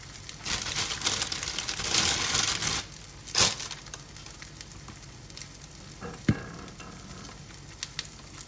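French toast, bread soaked in an egg and milk mixture, sizzles steadily in a frying pan, with a louder crackling burst early on, a sharp clatter midway and a single utensil tap near the end.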